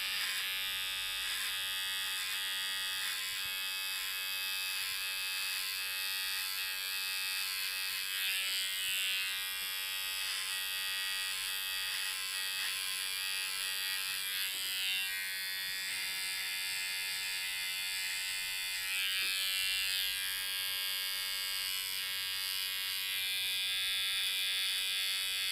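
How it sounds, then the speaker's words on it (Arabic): An electric hair clipper outlines the hairline during a zero-fade haircut, giving a close, steady buzz that runs unbroken throughout with no talking. "دائما في البداية من الأحسن التحديد بواسطة الماكينة، ثم بعد ذلك استخدام الموس."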